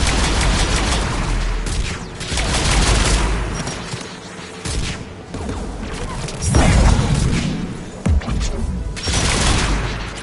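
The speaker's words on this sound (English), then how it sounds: "the aircraft guns." Aircraft guns in Mass Effect 3 blast in heavy repeated volleys of loud gunfire and booming impacts, with crashing bursts and mechanical clatter across the whole stretch.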